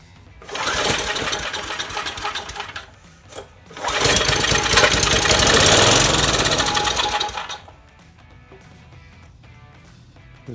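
A smoking engine with no fuel in the tank, started on brake cleaner: loud rattling bursts of running that catch, fade, and catch again before dying into a faint idle-like hum, close and with no talk.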